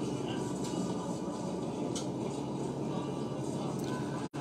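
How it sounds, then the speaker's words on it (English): A road train truck convoy rumbles past on a straight road in Australia, producing a loud, steady, broadband roar that stays continuous throughout with no talk over it. "Did you see that convoy of, you know, a truck like a train?"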